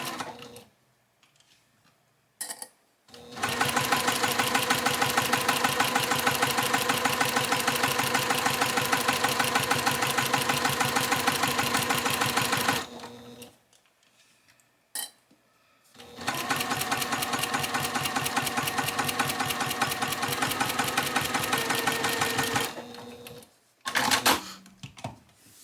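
A sewing machine stitches a quilt sashing seam in two long, steady runs of rapid mechanical chatter, about nine and seven seconds each, separated by quiet pauses with light handling sounds.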